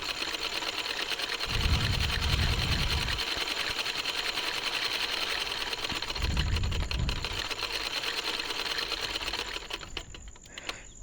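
A sewing machine stitches a salwar cuff (mohri) design as the fabric is turned, giving a continuous close mechanical hum with two heavier, lower rumbling stretches partway through.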